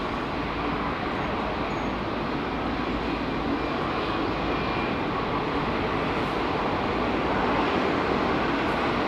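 Jet airliner taxiing and making a sharp tiller turn on the ground at London Heathrow Airport, a steady broadband engine roar that holds loud and even throughout with no talk over it.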